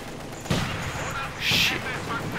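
A German MG42 machine gun fires in the WWII strategy game Company of Heroes 2, set in the Assault on Voronezh battle. Two short, loud bursts of gunfire crack through the mixed battlefield din.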